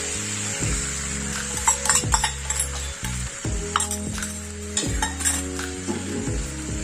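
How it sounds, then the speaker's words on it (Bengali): Spice paste for a pumpkin curry fries in a pan, a steady sizzle broken by repeated scraping stirs and light clinks of a utensil against the metal. "এবার ভালো করে কষে নেব।"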